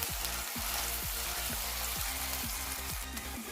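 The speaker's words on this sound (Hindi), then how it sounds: "इसको फ्राई करते हैं।" Green chillies fry with tomato in a pan, a steady close sizzle with faint stirring scrapes and no talk.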